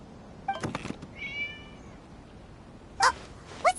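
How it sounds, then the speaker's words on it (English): A cat meowing inside a PS4 video game, with a few short meows spread across the moment, moderately loud over a quiet background. "It was just a cat."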